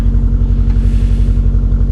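A Subaru GC8 with a Ganador exhaust idles close by, producing a loud, steady low rumble with a fast, even burbling pulse and no pauses.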